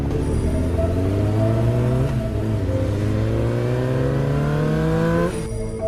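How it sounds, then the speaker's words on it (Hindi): A motorbike speeds away in a cartoon, its engine revving loudly and rising steadily in pitch as it accelerates, close and continuous before cutting off near the end. "बाबा बाइक भगाने लगते हैं"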